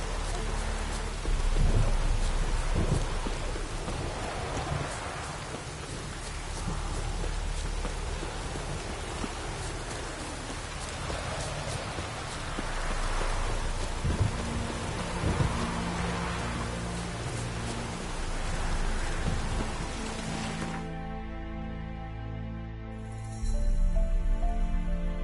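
A thunderstorm in a PS4 game: steady heavy rain on surfaces with rolling thunder rumbling throughout, then the storm cuts to a quieter tonal background near the end.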